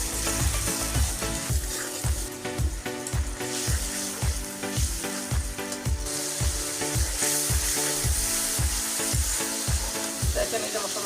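Spice paste with garlic, turmeric, salt and chilli powder sizzles and fries in a pan for a hilsa fish curry, a constant loud crackle under rhythmic scraping strokes of a spoon stirring close by.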